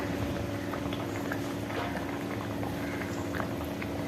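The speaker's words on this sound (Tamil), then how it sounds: "குழம்பு இப்போ கொதின்னு கொதிச்சாச்சு" Okra and coconut gravy boils in a pot, a continuous dense bubbling and soft popping that stays steady and close throughout.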